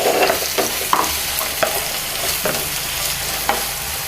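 Finely chopped tomatoes and onion fry in a pan for tawa pulao, a soft steady sizzle broken by periodic scrapes of a spoon as the mixture is stirred, close and alone with no talk.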